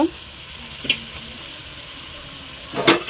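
Crab curry ingredients frying in oil in a pan give a steady, moderate sizzle, with a few brief stirring knocks near the start and close to the end.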